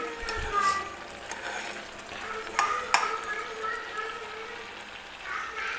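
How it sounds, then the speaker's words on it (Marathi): Curdled milk cooks in a pan for kalakand, stirred with soft scraping strokes over a faint steady sizzle and a few light metallic clinks, close and fairly quiet. "तर हे व्यवस्थित आपल्याला घट्ट होईपर्यंत शिजवून घ्यायचं आहे."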